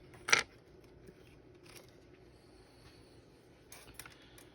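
Scissors snip excess material on a truck simulator shifter build, one crisp close cut followed by quieter faint handling clicks and a softer snip near the end, without talk.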